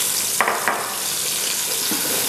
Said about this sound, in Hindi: इसके अंदर इसको इतना भून लेना है कि इसके अंदर जो मॉइस्चर है वो सूख जाए